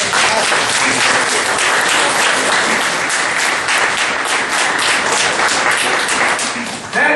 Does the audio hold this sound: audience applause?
yes